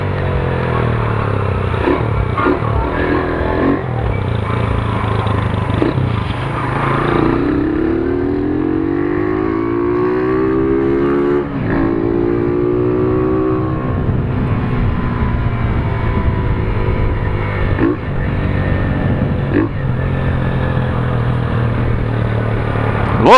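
A carbureted Honda Titan 150 motorcycle is being ridden, its engine droning steadily and rising and falling in pitch as it revs through the gears, with wind rush throughout and no voices.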